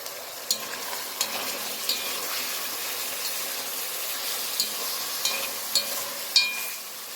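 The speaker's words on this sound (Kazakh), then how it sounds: "Етімізді қызартып туырып аламыз" Meat frying in a little oil in a pan for a cabbage soup, giving a steady soft sizzle with occasional sharp clicks and scrapes of stirring, close and alone.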